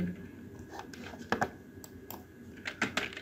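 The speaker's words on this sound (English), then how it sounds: "for that purpose you will have to type sudo" Typing on a computer keyboard while entering a command in a Kali Linux terminal: a close, irregular run of light key clicks with a few sharper taps, heard alone with no talk.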